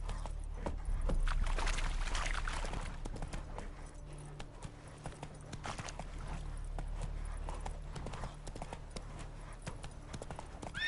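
Hooves of Roach, the horse in The Witcher 3, clip-clop in a steady trotting rhythm across nearly eleven seconds, moderately close and continuous over a low ambient rumble.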